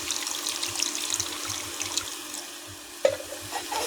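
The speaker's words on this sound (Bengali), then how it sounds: "মশলা কষানোর জন্য অল্প একটু জল দিয়ে দেবো।" A little water poured into spices frying in a pan for a goat fat and potato curry, giving a steady hiss and sizzle with scraping stirs and one sharp splash near the end, close and moderately loud.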